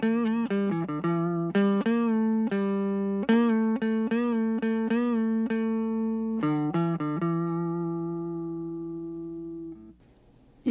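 An electric guitar, a budget Les Paul–style GearIT GI-155 Valley Series, being tuned with sloppy tuners: a rapid run of picked notes and repeated plucks, then longer ringing notes that slowly decay, close and clear with no talking.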